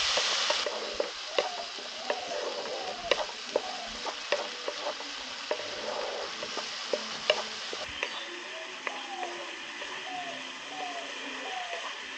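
Spice paste sizzles steadily in a hot pan for a vegetarian pointed gourd dish, with a spatula scraping and tapping at a regular rhythm throughout.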